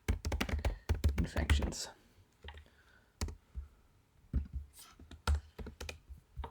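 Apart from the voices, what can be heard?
typing a file name on a computer keyboard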